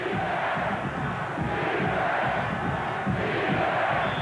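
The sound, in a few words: stadium crowd at college football game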